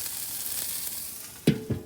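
Two burgers frying on a stainless steel diffuser plate used as a griddle in a Weber Master Touch kettle, a steady close hiss with two brief louder bursts of sizzle near the end.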